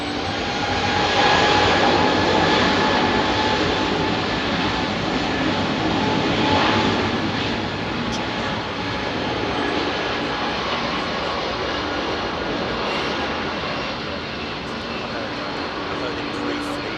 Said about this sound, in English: You will hear him give a bit of power on the engines to get himself up that ramp